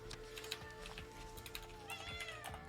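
A pet cat lets out several short, faint meows close by, scattered across a few seconds against a quiet indoor hum, with no speech over them.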